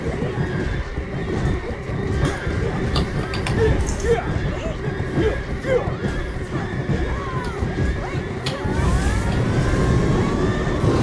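A horse neighs in the online game Black Desert, set among busy, constant game noise with people talking over it throughout.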